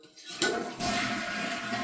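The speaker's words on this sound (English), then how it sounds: "I'm going to flush the toilet." A household toilet is flushed with its water supply shut off: a loud, close rush of draining water starts suddenly and keeps going steadily.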